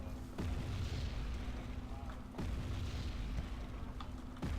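Rocket artillery from an LRM launcher fires in a strategy video game, giving repeated booming launches about every two seconds over a steady rumbling battlefield background.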